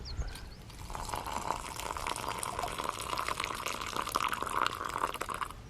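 At an outdoor wild camp on Kinder Scout's north edge, water streams steadily into a container for several seconds, a continuous close pouring sound with a slight rising fill tone.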